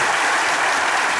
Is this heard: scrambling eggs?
no